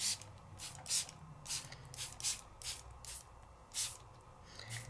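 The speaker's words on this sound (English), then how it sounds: "So I can spray as heavy as I want." A spray bottle is pumped repeatedly, about a dozen quick hissing spritzes in an uneven rhythm, close by and fairly quiet.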